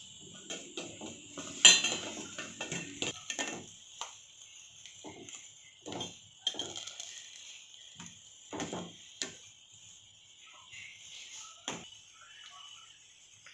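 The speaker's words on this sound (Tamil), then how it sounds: "இதில் கிளறி விட்டுட்டே இருக்கணும்" A spoon scrapes and clinks against a pot in irregular, close strokes as poha milk pudding is stirred, with a faint high hiss underneath.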